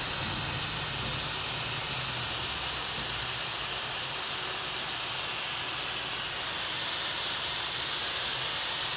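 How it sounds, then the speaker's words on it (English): Air hisses steadily from tire valve stems through a Quick Flate four-way inflation and deflation system, a continuous broad rushing noise that stays loud and even for the whole stretch with no voices. "as you're going through this and it's releasing the air"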